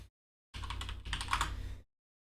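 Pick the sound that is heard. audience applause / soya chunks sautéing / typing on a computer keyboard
typing on a computer keyboard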